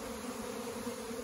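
Close, constant humming drone from a nervous September honey bee swarm, a dense insect buzz that holds steady throughout without voices.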